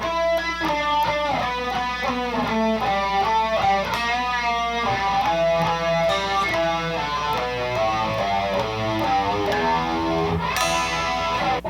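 Slow electric guitar riff from a solo, with overdriven, effects-laden tone ringing out as a steady run of sustained notes for the whole stretch, with no talking.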